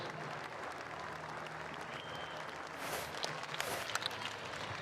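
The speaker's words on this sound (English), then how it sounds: "Let's have one more round of applause for our 2026 Distinguished Service Award winners." A crowd applauds award winners at a state high school boys basketball championship in an arena, a steady moderate clapping wash swelling slightly with scattered cheers and whistles toward the end.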